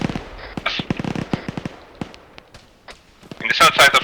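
Gunfire in the ArmA 3 SOG video game, a rapid string of sharp shots of varying loudness with a brief heavier burst near the end, mixed with someone talking over radio-style voice chat.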